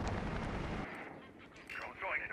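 A grenade blast in Rainbow Six Siege: a heavy, low booming explosion fills the first second, then cuts away into quieter rumbling and muffled game noise.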